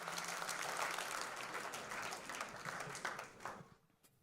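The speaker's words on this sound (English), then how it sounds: "Let's give them a big round of applause." An audience at a college reunion music show applauds singers, a dense round of clapping that thins and fades out near the end.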